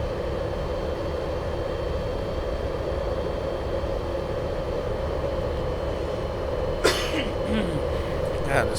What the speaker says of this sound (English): God, this cough is killing me.